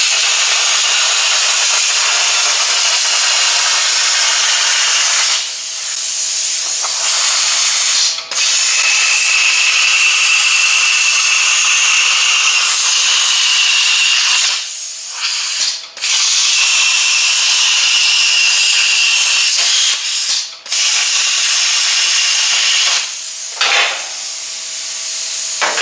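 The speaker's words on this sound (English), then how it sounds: "Let's go ahead and just randomly cut this one with our plasma cutter" A plasma cutter slicing through a rusted steel trunk floor brace on a Chevy Chevelle under restoration, giving a loud, harsh, continuous hiss in long passes broken by short pauses.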